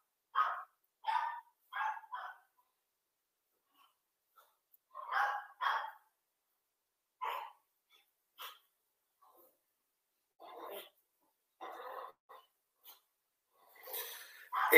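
A household dog barks in short, separated bursts: clusters of sharp barks near the start, then sporadic single barks and a louder outburst at the end, close by in an otherwise quiet room.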